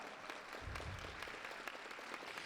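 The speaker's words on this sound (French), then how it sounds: "On l'applaudit très fort." A beauty pageant crowd claps for a jury member, a Miss France runner-up. The applause is fairly soft and steady, with dense scattered claps and a faint low murmur underneath.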